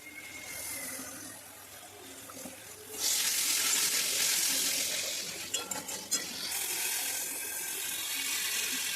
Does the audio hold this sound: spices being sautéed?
yes